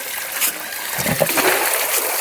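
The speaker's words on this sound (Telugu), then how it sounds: "ఇది ఎంటీ బకెట్ కదండి చూడండి వాటర్ ఎట్లా నిండిపోతున్నాయి" Borewell water gushes under strong pressure into an empty bucket, making a steady, close, broadband rushing splash that holds for the whole stretch with no one speaking.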